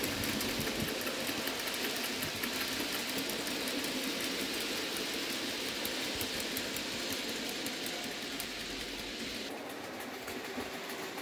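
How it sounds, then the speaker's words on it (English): A standard Hornby TT:120 model locomotive motor fitted with wipers runs steadily on a Gaugemaster controller, giving a continuous high, buzzing whine with a faint rhythmic ticking, close up and even throughout. "Here is Columbo with a standard Hornby motor that has the wipers fitted. It's running on 25 on the Gauge Master controller."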